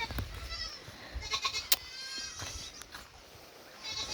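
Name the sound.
goats bleating in their pen during rain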